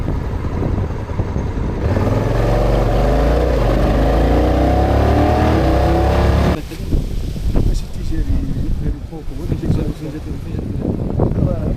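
A motorcycle engine drones steadily with heavy crosswind rushing past while riding across the Sahara, then the engine note drops and rough, gusty wind buffeting takes over.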